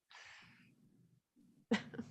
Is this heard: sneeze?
yes